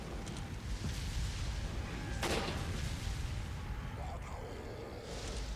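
A single gunshot in Resident Evil 4, a sharp crack rising briefly above a steady dense background of ambient game noise, no talking.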